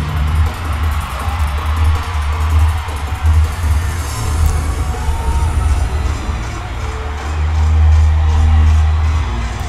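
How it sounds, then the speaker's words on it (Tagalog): Crowd at a Billboard Philippines concert shouting and cheering continuously, a loud, distant-sounding roar with booming low end that rises again near the end, individual screams blending into the mass. "Authentic ang sigaw at hiyawan."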